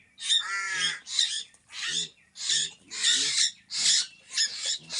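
A bird calls repeatedly at close range, a series of harsh, raspy squawks in a steady rhythm, each about half a second long.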